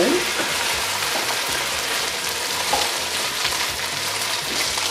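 Lamb browns in a pan for a curry, giving a loud, steady close-up sizzle and crackle that runs unbroken throughout.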